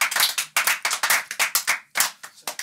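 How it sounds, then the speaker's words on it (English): A small group at a podcast recording claps for a guest, a quick run of sharp, close hand claps lasting a few seconds with brief pauses between bursts and no talking. "Let's give it a round of applause"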